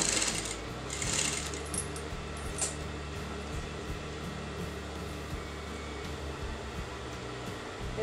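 A sewing machine stitches bias binding onto a kameez or kurti neckline, running as a steady low mechanical whir with a few brighter bursts near the start, fairly quiet and continuous without speech.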